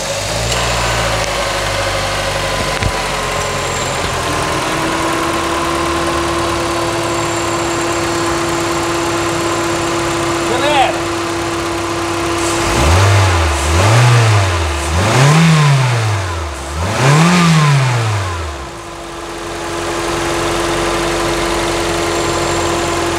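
A 2004 Toyota Corolla with a VVTi engine, just back from a head gasket replacement, idles steadily, then is revved three times in a row with rising and falling sweeps before settling back to idle.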